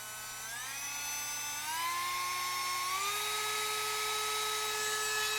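A small battery-powered rotary tool whines steadily at close range, its high-pitched tone stepping up in speed twice.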